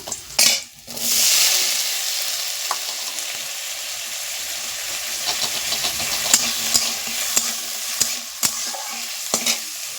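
Cut potatoes tumble into hot oil with whole cumin, bursting into a loud sizzle, then a continuous fry follows, broken by sharp scrapes and clinks of a spatula against the pan.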